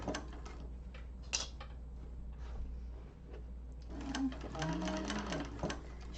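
A sewing machine runs in steady stitching bursts while a bowler bag seam is sewn within the seam allowance, with a faint voice and a few small clicks and handling knocks around the mechanical whir.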